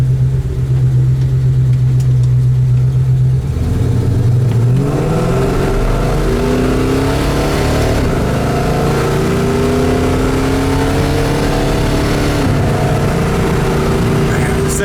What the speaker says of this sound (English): Went through the gears there, first, second, third